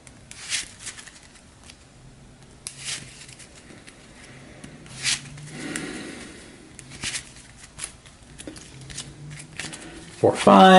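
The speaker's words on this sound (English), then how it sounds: "Then we'll shuffle her hand." Cards from the Harry Potter Hogwarts Battle board game being shuffled by hand, intermittent soft riffling and sliding bursts close by, with some talk underneath.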